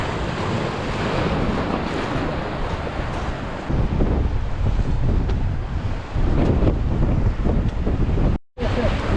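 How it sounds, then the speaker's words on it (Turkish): Strong, gusty wind on the Aegean coast at İnceburun, Datça, roars across the microphone with steady broadband buffeting, and waves wash faintly underneath; a brief dropout near the end. "Rüzgar kuvvetlendi."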